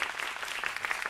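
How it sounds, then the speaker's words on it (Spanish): A television talk-show studio audience applauds a guest named Cristian with dense, steady clapping that fills the room evenly, heard on its own without anyone speaking over it. "Un aplauso para Cristian."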